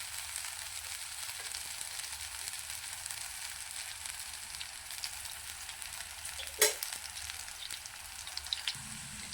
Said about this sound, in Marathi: एकदम बारीक गॅसवरती फ्राय करून घेऊया, म्हणजे छान भाजलं जातं